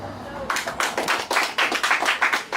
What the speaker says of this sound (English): giving him a black hand and an applause